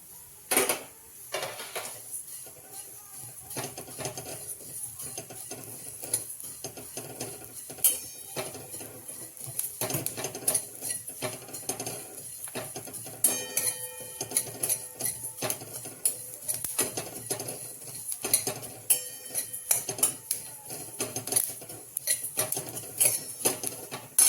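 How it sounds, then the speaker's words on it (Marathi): White sesame, cumin and coriander seeds dry roasting together in a hot kadhai, with a steady scatter of soft crackles, light scraping and metallic stirring clinks throughout, close and fairly quiet, with no talking. "तर मी मसाला करण्यासाठी 3 चमचे पांढरे तीळ, 1 चमचा जिरे आणि 1 चमचा धने घेतलेले आहे. तर सर्वप्रथम ते आपण एकत्र भाजून चांगलं घेऊया."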